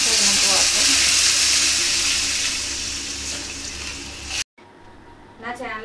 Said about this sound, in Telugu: వాటర్ అయితే వేసుకుంటున్నామండి.